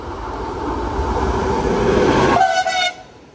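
A train rushes loudly through Anzola Emilia station on track 2, a dense rolling roar close by, followed by a brief bright horn blast as the noise suddenly drops away.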